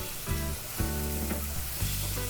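Fresh, live small fish drop into hot masala and fry, a loud close sizzle swelling in a few rhythmic surges as they are lightly turned.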